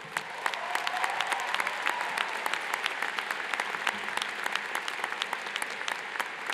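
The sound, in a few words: applause from a commencement ceremony audience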